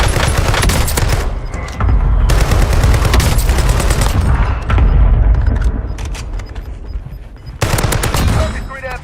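Heavy gunfire in the video game Warzone, set in Verdansk: loud, dense bursts of automatic fire and booming shots that roll on almost without pause, with brief gaps before the shooting resumes.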